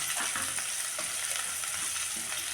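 Ingredients for toor dal palya fry in a pan with a soft, steady sizzle and light stirring, close but fairly quiet, over a short stretch with no talk.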